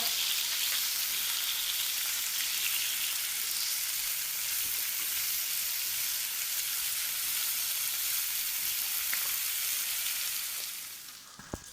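A mooli paratha fries in desi ghee, giving a steady, close hiss and sizzle that continues evenly before fading near the end, with no voices.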